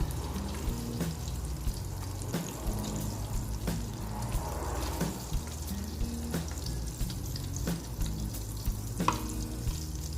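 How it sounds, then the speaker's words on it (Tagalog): Meatballs fry in a pan with oil, a steady close sizzle with a low hum beneath and a few sharp clicks of utensils recurring through the sound. "Now let's fry the other batch."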